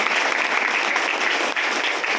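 A crowd claps loudly and densely for dancers at a lively gathering, a brief burst of close, continuous applause with no voices over it.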